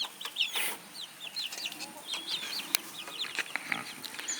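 Chickens cluck in an outdoor chicken run, with a white hen among the flock, giving repeated short clucks and chirpy calls close by throughout, with a few rustles between calls.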